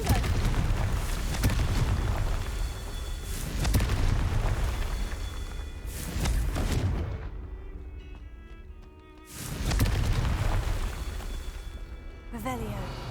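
Fiery Confringo spell blasts in Hogwarts Legacy, a series of loud booming explosions with rumbling bursts, broken by a short quieter gap before another heavy blast follows.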